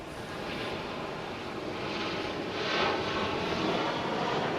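An American Airlines airliner takes off from runway 18 Left at Dallas/Fort Worth Airport, a continuous broad engine roar that swells slightly as it builds, heard from a distance with no voices.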